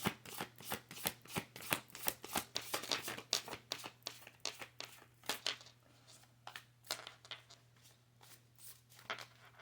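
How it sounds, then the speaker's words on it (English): A deck of cards being shuffled by hand, giving a fast run of crisp riffling flicks and snaps close up, repeated steadily and then easing off, with no talking over it. "I like to make sure they get good and shuffled up before I go to flick through them again, too."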